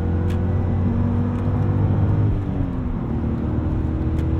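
A 2001 BMW E39 M5 engine drones loudly and steadily from inside the car while accelerating, its tone shifting slightly midway.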